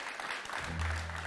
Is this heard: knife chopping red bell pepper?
no